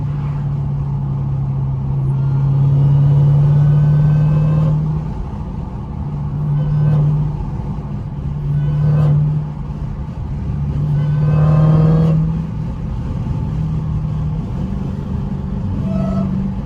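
Supercharged Dodge Hellcat heard from inside while driving, a loud steady engine drone that swells and eases with throttle, a thin supercharger whine riding above it and brief rising tones as it revs.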